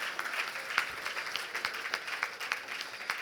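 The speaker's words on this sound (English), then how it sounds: "Please give yourselves a roaring round of applause." Audience applause at a gala luncheon, with many people clapping in a steady, close patter for the whole stretch and individual sharp claps standing out.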